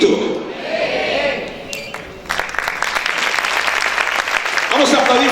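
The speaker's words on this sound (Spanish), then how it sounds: "Vamos a aplaudir fuerte al Señor." A church congregation bursts into loud applause for the Lord after a sermon, the clapping rising into a dense, sustained roar of many hands, with a preacher's voice heard over it.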